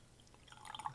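Glenlivet 14 Cognac Cask Scotch whisky poured into a glass, a soft trickling splash building over the second, close and quiet.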